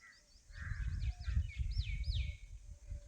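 Several crows caw repeatedly in rising, rasping notes over low rumbling noise in a village, fairly close, with overlapping calls throughout.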